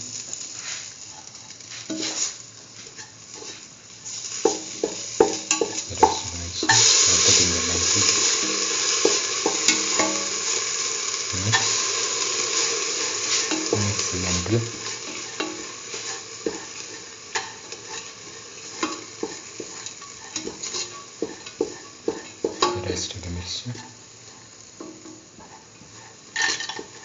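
A curried mustard lentil stew with fenugreek leaves sizzles in a pan while a spoon stirs and scrapes it in repeated bursts, with a pot clinking now and then.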